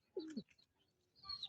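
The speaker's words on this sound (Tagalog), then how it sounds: "At merong tumukod sa loop natin na ibon." A pigeon that has just landed on the loft gives a short, soft coo, fairly close and alone, followed by a brief pause and a second faint call.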